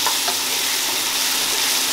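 Ginger garlic paste fries for chicken biryani, giving off a continuous, even sizzling hiss close by with no talking.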